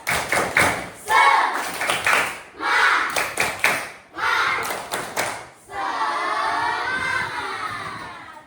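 A class of fifth graders performs a tepuk semangat clapping chant, bursts of sharp rhythmic claps in patterned groups separated by brief pauses, ending in cheering and excited voices.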